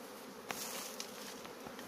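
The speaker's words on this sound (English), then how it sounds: "This is the process and this is the bees colonizing, this is the hive." Bees colonizing a hive, a dense steady buzzing swarm with brief louder passes as individual insects fly near, faint overall and heard without talk.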